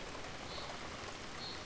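Steady game rain in Saelig, a soft even hiss of drops on surfaces that holds at one level throughout, with no voices.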